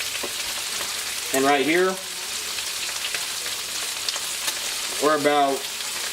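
Pork chops and bacon frying in a pan give a steady, close crackling sizzle that runs the whole time, with someone talking over it in two short bursts.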